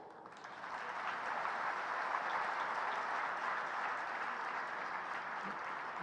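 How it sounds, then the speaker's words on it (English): Sustained audience applause at a seated session, a dense even wash of clapping that swells in the first second and then holds steady, moderately distant, with no talk over it. "Claps and smile don't cost anything, so please go."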